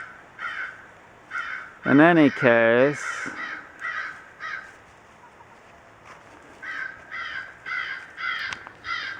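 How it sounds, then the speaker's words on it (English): A crow perched atop a pole caws in repeated harsh calls, several in a row near and clear, with someone speaking briefly in the middle. "There's a crow on top of that pole."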